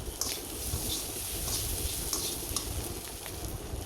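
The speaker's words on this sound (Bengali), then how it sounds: "পেঁয়াজটা হালকা হালকা ভাজা হয়ে আসছে। তারপর পাঁচ ফোড়ন দেওয়ার পর নাড়াচাড়া করে দিচ্ছি যাতে পাঁচ ফোড়নটা একটু ভাজা হয়।" Onion and panch phoron spices fry in oil while being stirred, a dense close sizzle with scraping and shuffling over a few seconds, no voices.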